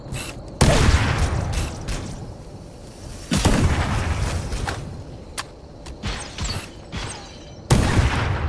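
Heavy bursts of gunfire and explosive booms on heroic difficulty in the Halo campaign, loud blasts arriving in several separated clusters with quieter rattling mechanisms and distant shots between them.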